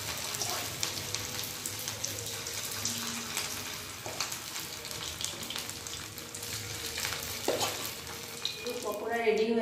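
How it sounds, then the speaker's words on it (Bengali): Potato pakoras fry in oil with a steady, fairly quiet sizzle and occasional stirring clinks, and a brief tonal hum and watery rush rise near the end. "বাদ বাকিগুলো এবার ভাজতে থাকবো এভাবে অল্প অল্প করে।"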